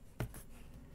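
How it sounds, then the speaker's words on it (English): A pencil scratches briefly against cardboard while tracing a circle for a craft pencil case, one short close stroke followed by fainter scraping against a quiet background. "you trace this circle"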